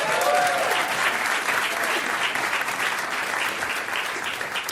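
Studio audience at a quiz show applauds a newly introduced contestant, a steady, dense wash of clapping held at an even level for several seconds, with no talk over it.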